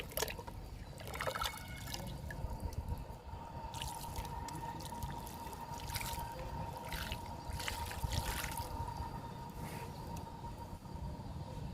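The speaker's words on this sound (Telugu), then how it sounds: "ఇవి వర్షపు నీళ్ళేనండి వంగ మొక్కకి ఇస్తున్నా" Stored rainwater is poured onto a brinjal plant in a pot, a continuous close trickle and splash of water lasting throughout with no talking.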